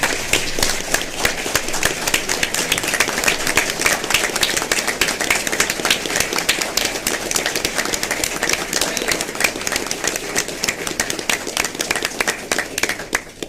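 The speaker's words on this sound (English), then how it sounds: "Let's give her a round of applause" Sustained applause at a school board meeting, many hands clapping briskly and fairly close for the whole stretch, steady in level and tapering slightly at the end.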